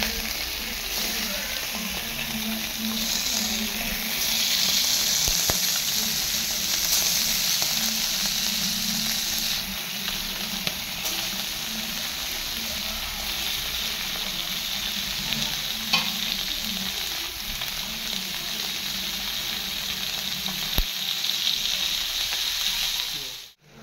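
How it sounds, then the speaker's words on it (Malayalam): Karimeen (pearl spot fish) frying in hot coconut oil for a Kerala-style mappas, a steady loud sizzle and crackle running throughout with occasional clinks and stirring, no talking. "അപ്പോൾ ഞാൻ ഇതിനകത്തേക്ക് നമുക്ക് വേണ്ട കരിമീനൊക്കെ എല്ലാം ഫ്രൈ ചെയ്തെടുക്കുന്നുണ്ട് കേട്ടോ."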